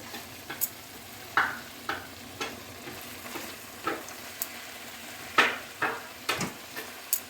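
Cauliflower florets, blanched in hot water, set stalk-side down into hot spice masala in a pan, giving soft intermittent sizzles and crackles in short bursts against a quiet background, with no talking.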